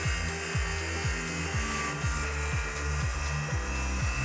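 A power saw cuts through a piece of plywood for stair stringers, a steady close whine with repeated rhythmic sweeps as the blade works through the sheet.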